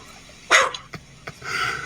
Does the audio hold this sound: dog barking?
yes